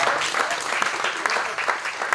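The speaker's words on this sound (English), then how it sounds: "A round of applause for Nessie, because it meant" Wedding guests applauding during the reception speeches: a brief burst of dense, lively clapping with voices mixed into the crowd.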